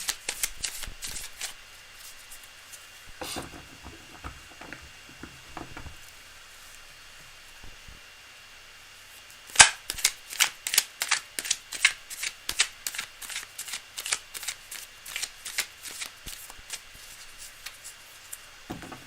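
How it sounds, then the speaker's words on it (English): Tarot cards being shuffled by hand in a quiet room, a dense run of crisp riffling flicks that grows louder and more rapid in the second half, with a single sharp snap partway through. "Cards are very well shuffled."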